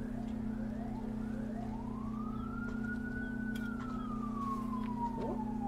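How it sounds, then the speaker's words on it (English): Faint, distant siren from an emergency vehicle, a single tone rising slowly then falling over a steady low hum, with the wail drifting in from afar during a beach chateau building game stream. "Oh, is that the ambulance?"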